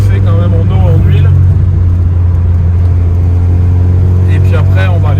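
A 450 hp VW Golf 2 engine idles loud and close while warming up, a deep steady rumble with a few light revs, and someone talks over it at the start and end.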